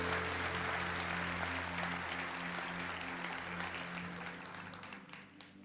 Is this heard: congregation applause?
yes